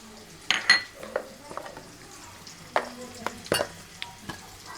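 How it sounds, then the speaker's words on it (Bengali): Lentil dumplings (bori) frying in a pan, with a soft sizzle underneath and scattered clinks and scrapes from a utensil stirring them. "এই যে বড়িগুলো সুন্দর করে ভেজে নিছি"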